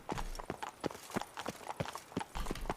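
Horse hooves clip-clop in The Witcher, a brisk, even rhythm of about a dozen sharp hoof strikes on hard ground, moderately close and faint, with no talk over them.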